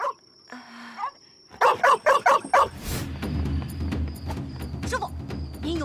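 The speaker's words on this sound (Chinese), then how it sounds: "您有没有听到狗叫？" Several dogs bark in a quick burst of loud, close yips and barks, followed by a rumbling, noisy background with a few fainter barks; the dogs are heard in a period kung fu drama setting.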